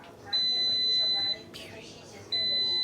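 A high, steady electronic beep sounds twice, each about a second long, with a brief softer warble between and a faint background hum.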